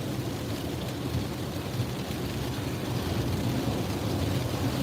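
Heavy rain pours onto a moving car during a tornado-threat storm drive in Mississippi or Alabama, a loud, constant dense wash with road rumble beneath and no voices.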